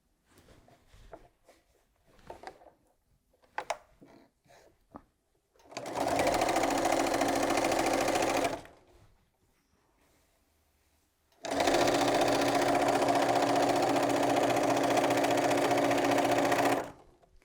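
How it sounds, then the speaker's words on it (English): A sewing machine chain-piecing quilt fabric runs in two steady, rapid stitching bursts of about three and five seconds, separated by a quiet pause with light handling noises. "So this is what we call chain piecing."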